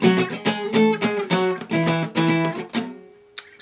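Guitar solo lick, played alone as a run of plucked notes with a steady phrasing, fairly close and clear, ending on a ringing note with a brief final pluck.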